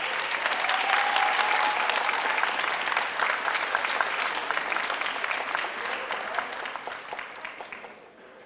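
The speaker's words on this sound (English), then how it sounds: "another big round of applause to all of our finalist teams and our amazing judges tonight" An audience applauds finalist teams and judges at a university startup pitch competition final, with dense sustained clapping that gradually thins and fades toward the end.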